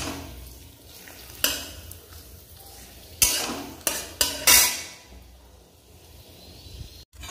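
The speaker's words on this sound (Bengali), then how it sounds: "আলুর পাঁপড় ভেজে নিই" Homemade potato papad frying in hot oil, with a low crackle underneath and several sharp bursts of sizzling and clattering utensils, close by.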